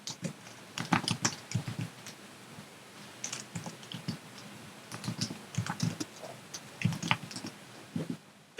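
Code is typed on a computer keyboard in quick bursts of clicky keystrokes separated by short pauses, close-up and fairly quiet, with no one talking.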